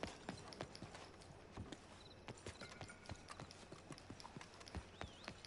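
Horse hooves clip-clop in a steady trotting rhythm while riding in Red Dead Redemption 2, close and distinct over faint ambient background, no talking.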